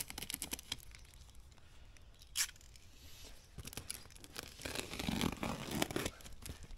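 Packaging being torn and crinkled while a set of motorcycle crash bars is unboxed, with quiet irregular rips, rustles and taps close by, one sharp tear standing out, and no talking.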